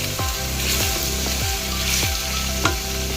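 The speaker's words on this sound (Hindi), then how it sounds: "इसको भी हमने हल्का सा ब्राउन करना है, ज़्यादा नहीं करना, सिर्फ कलर चेंज करना है।" Ingredients for a chicken lasagne sizzle steadily as they lightly brown in a frying pan, with periodic scraping strokes of a spoon stirring them, close and fairly loud, no talking.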